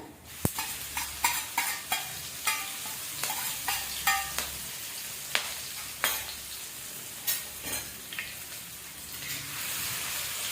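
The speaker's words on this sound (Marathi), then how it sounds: "अर्धा चमचा जिरे लसूण आणि मिरचीची जी पेस्ट आपण वाटून घेतलेली ती टाकून घेऊया" Cumin, garlic and chili paste fries in a pan for dill leaf bhaji, a steady sizzle broken by repeated stirring scrapes and clicks at a moderate, close level, with no voices.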